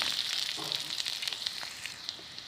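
Chopped onion frying in hot oil, a quiet, steady crackling sizzle heard up close with small irregular pops and no voices.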